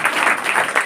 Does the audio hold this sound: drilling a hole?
no